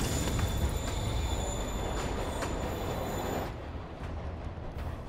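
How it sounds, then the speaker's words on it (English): Train in Marvel's Spider-Man PS4 pulling away, a loud rolling rumble with high squealing wheel tones that thins out and drops in level near the end, with no talk. "Train moving. Lee's getting away."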